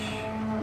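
A cow moos once, close and loud, in a newly built free-stall heifer breeding barn.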